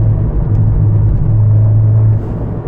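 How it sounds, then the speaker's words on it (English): Abarth 124 Spider with its Ragazzon exhaust valves open gives a steady, loud low engine drone at cruising revs, heard from inside the car, with no talk. "Exhaust should be open."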